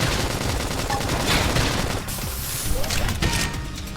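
Dense, rapid bursts of explosive combat noise from a flame grenade attack in the video game Xenoblade Chronicles X, with crackling blasts and gunfire-like pops layered over continuous battle sound, loud and close with a brief dip midway.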